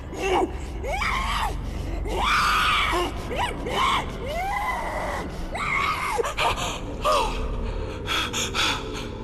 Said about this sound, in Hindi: सोनम चीखते हुए उठी